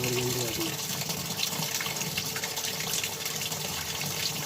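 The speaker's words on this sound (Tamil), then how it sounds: "இந்த மோட்டரை பூட்டுறதால நல்ல ஸ்பீட்டாக தண்ணி வரும்" Water gushes steadily from a washing machine inlet line boosted by a pressure pump, a continuous broadband rush that stays loud throughout with a low hum underneath.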